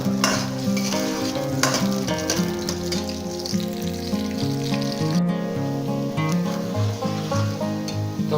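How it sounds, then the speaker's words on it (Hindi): Chopped onions fry in hot ghee for a beef and peas dish, a loud, continuous close sizzle with stirring and scraping in the pan throughout. "तो उसके अंदर मैं काटे हुए प्याज ऐड कर दूँगा, और इनको मैं भुनाई कर दूँगा प्याज की अच्छी तरीके से"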